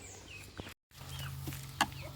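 Domestic country chickens on a small poultry farm cluck softly and intermittently at a distance, with one brief sharper call standing out near the end.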